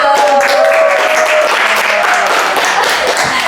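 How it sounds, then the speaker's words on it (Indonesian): Applause from a podcast audience, a steady wash of clapping filling the room, with some voices and a faint tone mixed in beneath. "Tepuk tangan dulu"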